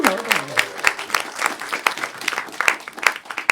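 At a stand-up comedy special, the audience breaks into applause, with distinct sharp claps ringing out in an uneven, moderately loud patter and a brief bit of voice at the start.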